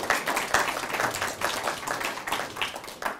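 Brief audience clapping at a medical research symposium, a fairly soft, ragged patter of hands lasting a few seconds.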